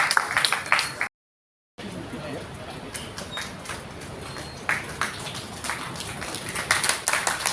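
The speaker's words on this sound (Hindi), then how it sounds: "जोरदार तालियों से स्वागत कीजिए आदरणीय" An audience at a felicitation ceremony for a retired announcer claps to welcome an honored guest on stage, a scattered patter of hands that rises and falls, with a brief silent gap early and voices mixed in.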